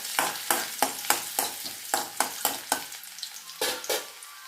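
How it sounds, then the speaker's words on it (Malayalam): Chopped ginger and garlic frying in oil with popped mustard seeds, a close crackling sizzle broken by a rapid, regular series of sharp stirring scrapes and clacks, with a short pause before two final strokes. "നമ്മുടെ ഇഞ്ചിയും വെളുത്തുള്ളിയും എല്ലാം കൂടെ മൂത്തിട്ടുണ്ട്."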